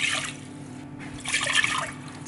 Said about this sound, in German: Der Reis wird jetzt erstmal gewaschen.